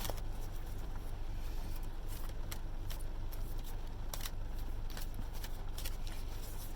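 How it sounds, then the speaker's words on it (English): Steady papery riffling of a deck of cards being shuffled, with repeated soft snaps, close and continuous, no voices. "So let me continue to shuffle."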